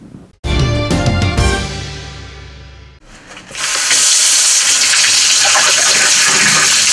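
Tap water gushes and splashes steadily into a basin in a flat, loud and close, after a brief burst of other sound at the start; no talk is heard.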